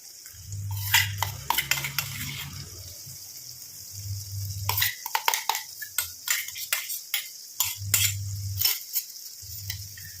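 A thick paste of ground hibiscus flowers and black cumin is stirred in a pot, giving repeated wet scraping and clinking strokes in short bursts with brief pauses and no talking.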